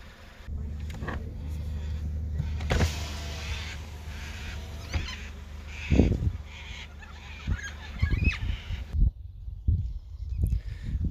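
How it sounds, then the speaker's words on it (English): Black cockatoos calling as a flock lands in trees at a reserve near farmland, harsh squawks and cries rising over a steady outdoor rumble, with louder bursts toward the end. "Just have a whole heap of black cockatoos landing in these trees here."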